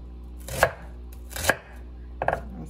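Knife chopping food into pieces on a board while making spaghetti and meatballs: three separate, fairly close chops, each a short sharp knock, with a quiet pause between them and no talk.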